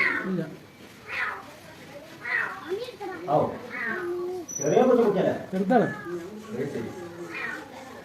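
A kitten with a fur problem meows repeatedly up close, its high, wavering cries mixed in with ongoing conversation.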